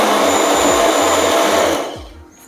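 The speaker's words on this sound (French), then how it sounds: "Dans le blender, on vient ajouter le bouillon de volaille. On commence à mixer le tout." A blender whirs loudly, mixing avocado gazpacho with chicken stock in a steady high-pitched roar that winds down and cuts off near the end.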